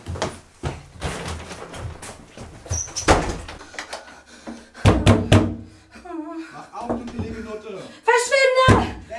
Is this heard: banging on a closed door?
yes